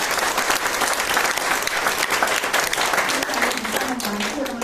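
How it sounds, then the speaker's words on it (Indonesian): Applause for a team leader at a sharing session, a dense burst of clapping from a room full of people lasting several seconds, with a voice starting faintly near the end. "Beri tepuk tangan untuk leader Anda."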